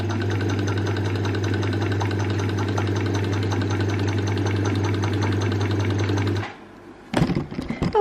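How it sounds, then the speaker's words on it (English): A small domestic sewing machine runs steadily for about six seconds, a loud, even mechanical whirr with a fast stitching rattle, then stops abruptly, followed by a few brief clunks and handling noises. "I'm actually using the little sewing machine because it's the one that's turned on at the moment"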